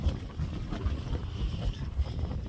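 Strong wind buffets the microphone on an outdoor walk in sunshine, a continuous low rumble with gusty swells and no clear voices.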